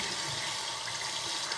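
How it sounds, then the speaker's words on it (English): Hot tap water runs steadily into a bathroom sink, a constant close rushing splash with no voices. "Right now this sink is getting washed out"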